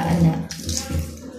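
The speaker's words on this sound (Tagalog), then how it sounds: "Babada natin sila ng aligam-gam na tubig." Makeup brushes being soaked in lukewarm water in a basin, with a steady, close sloshing and running-water wash under a voice speaking.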